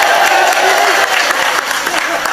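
An audience applauds at a Ramadan religious study gathering in Temanggung, Central Java, a dense steady wash of clapping from a large crowd, loud and close, with voices mixed in.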